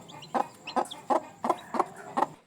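A brooding hen of a gamefowl breeder clucks on her nest beside returned chicks, giving six evenly spaced, close, moderately loud clucks in a steady rhythm with no other sound.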